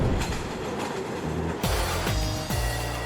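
A Chicago elevated train runs on its rails, loud and close, with a rumbling roll broken by heavy rhythmic clacks as the wheels cross rail joints, and no voices.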